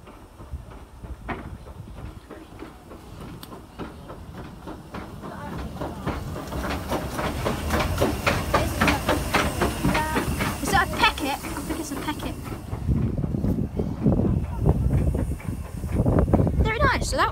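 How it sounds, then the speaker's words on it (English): A steam train on the Isle of Wight rolls in to recouple at the front of its carriages, a building hiss and rhythmic clatter that swells over about seventeen seconds, with people talking nearby. "Here comes the train, ready to recouple at the front."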